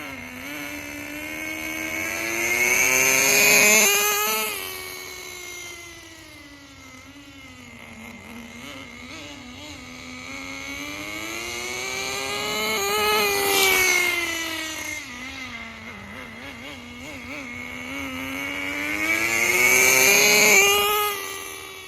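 Thunder Tiger Tomahawk RC boat with a two-speed setup running on water, a whining motor pitch that swells and fades in three long passes as it speeds by and turns away, distant between passes.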